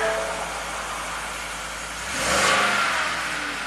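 A Ford V8 with a direct-injection and port-injector fault starts and revs, a steady engine drone that swells briefly mid-clip before settling, close with no talk.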